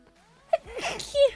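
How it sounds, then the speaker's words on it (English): A person sneezes once in a room where a wall is being broken open with an axe, a short sharp burst close to the microphone over low background noise. "I go to sneeze."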